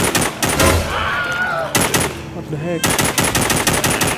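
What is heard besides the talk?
automatic gunfire in The Walking Zombie 2 video game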